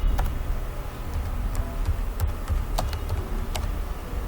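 Typing on a computer keyboard while writing a Java comment, with a steady run of sharp, close key clicks over a low hum.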